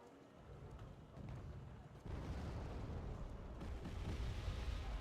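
Mortar fire and explosions from the Wargame Red Dragon strategy game form a dense, rumbling barrage of overlapping booms that swells midway and keeps roaring steadily to the end.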